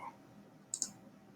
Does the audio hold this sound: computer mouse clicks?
yes